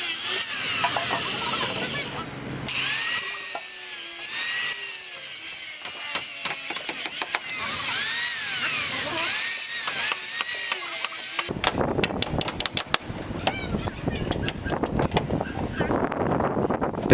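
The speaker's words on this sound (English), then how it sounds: "the workers use a specialized cutting machine to remove excess wood" At a construction site, a cutting machine trims excess wood from a Thai-style roof frame, giving a ragged, grinding whine with rising and falling pitch and then sharper rattling cuts, heard outdoors through wind noise.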